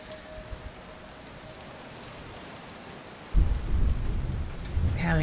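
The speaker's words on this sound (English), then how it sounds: "Having quite the thunder and lightning storm." A thunderstorm with rain in the video game Len's Island, a steady hiss of rainfall broken by a sudden loud, rolling thunderclap that rumbles on to the end.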